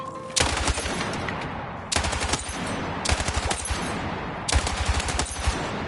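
Light machine gun firing on a Battlefield 6 firing range, in four long sustained bursts of rapid, loud, close shots separated by short pauses.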